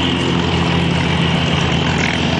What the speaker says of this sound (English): the Mark IV Hurricane is now taxiing